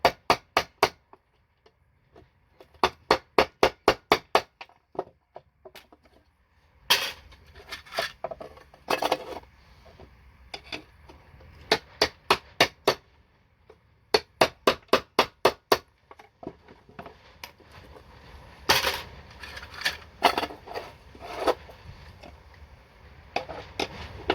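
Hammer blows on a chisel cut through gold-cornered BGA chip scrap, sharp metallic strikes landing in quick clustered bursts of several hits, close and loud, with short pauses and some scraping handling noise between the series.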